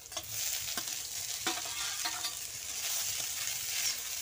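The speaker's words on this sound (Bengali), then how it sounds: "ভালো করে নেড়ে চেড়ে নামিয়ে নেব" Boiled drumstick greens tossed in a wok with fried onion and chillies, a continuous close sizzle broken by repeated spatula scrapes and knocks, no talking.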